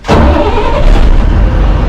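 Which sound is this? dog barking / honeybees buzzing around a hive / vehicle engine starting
vehicle engine starting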